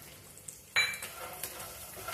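Cumin seeds and peanuts being stirred and dry-roasted in a pan, soft scraping with a few light metallic clinks and a faint sizzle, quiet and close.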